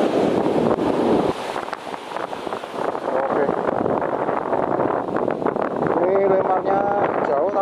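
Strong wind buffets the microphone while fishing on a sandy shore, a steady loud roaring rush with people talking underneath and faint whistling tones near the end.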